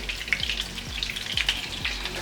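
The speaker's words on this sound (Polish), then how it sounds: "Słuchajcie, mój sos zaczyna się gotować. Dodaję tutaj teraz 50 ml e, brandy." Pepper sauce sizzling and bubbling in a pan as it starts to boil, with brandy poured in; steady crackling frying noise, close and moderately quiet, with a few soft scraping stirs.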